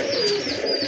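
A white pigeon coos steadily at close range, a soft continuous call with faint chirps over it and no voices.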